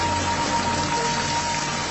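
Steady rain falls in an Indonesian period film about Sunan Drajat, a dense, even hiss of drops with no pauses or voices, loud and close throughout.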